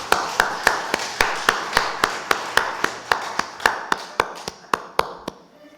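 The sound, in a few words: congregation applauding in church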